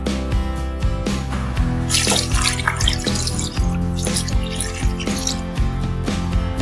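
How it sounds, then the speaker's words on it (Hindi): Water is poured from a glass into a pot of mutton karahi already seasoned with chili powder, whole red chilies, turmeric and salt. It makes a steady, close splashing gush over a background of music. "तकरीबन आपने 4 गिलास पानी डाल देने हैं इसके अंदर"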